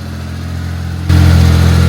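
A stanced mini truck's engine catches and settles into a low, steady idle, then jumps to a louder, rougher run for under a second before cutting back.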